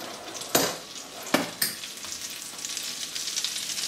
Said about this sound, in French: Je vais mettre mes 20 g de beurre. Mes oignons.